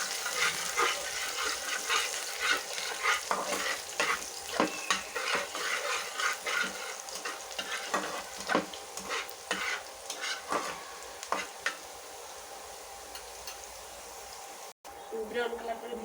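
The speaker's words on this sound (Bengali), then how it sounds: "দিয়ে দেবো রসুন কুচি, দিয়ে ভালো করে একটু ব্রাউন কালার করে ভেজে নেব।" Chopped garlic and three torn dried red chillies fry in hot oil, a constant close sizzle broken by frequent scraping stirs, with a voice talking over it.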